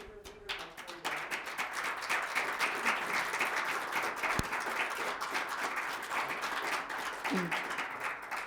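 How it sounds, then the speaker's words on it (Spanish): Sustained audience applause follows a Spanish poetry reading at an indoor event, dense steady clapping from a crowd lasting throughout, with a brief voice at the start. "Gracias por el aplauso."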